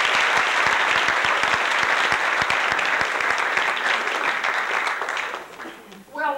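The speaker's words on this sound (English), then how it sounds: "Give them a nice round of applause." A live audience at a performance claps loudly and steadily in a full burst of applause, which fades near the end as a voice cuts in.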